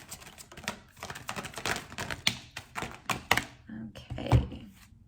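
Tarot cards shuffled by hand during a reading, a run of crisp close riffles, taps and card thumps in an irregular rhythm, with a person talking softly in between.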